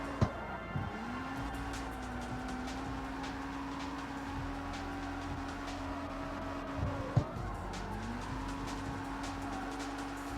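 A drifting car in the CarX Street racing game on PS5 holds a steady, droning engine note that dips and swells twice as the throttle comes off and back on, with faint tire noise underneath.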